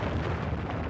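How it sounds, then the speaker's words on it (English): A stun grenade detonates in Call of Duty: Modern Warfare 3, a dense, roaring burst of noise that fills the whole moment at steady loudness, with no voices over it. "Stun grenade out!"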